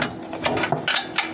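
A ratchet with a 21 mm socket tightens the bolts of a bike receiver hitch on a caravan, a close, quick series of sharp clicking strokes in short bursts, with no talk.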